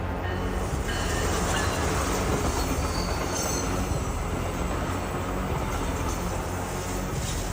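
A train rolls steadily past at close range, its wheels clattering and squealing faintly over the rails in a continuous, even roar with no voices.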